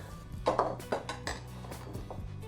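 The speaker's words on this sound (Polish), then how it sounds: "Biorę naczynie żaroodporne" A few clinks and knocks of a heavy ovenproof baking dish being handled on a hard surface, close by, over a low humming background.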